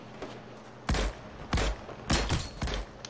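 Gunfire in a German-commentated shooter video game, a handful of loud close shots in quick succession with a clipped pistol-like crack and short ringing tails.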